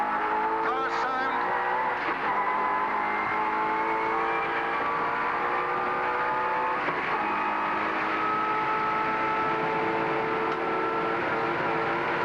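Touring car engines at the 1990 Bathurst 1000 race roar steadily throughout, a continuous high-revving drone with shifting pitch as cars pass, loud and close with no pauses.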